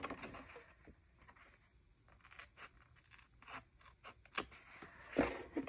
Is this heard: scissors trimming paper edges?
yes